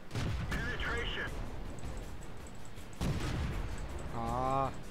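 Tank cannon shots and shell hits from the video game World of Tanks sound as sharp booming blasts over a rumbling engine bed, with a voice speaking between shots.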